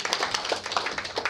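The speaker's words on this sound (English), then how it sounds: "Give him a round of applause." A small audience claps for a speaker at a personal-branding talk, a brief burst of dense, fairly close hand clapping with no voices over it.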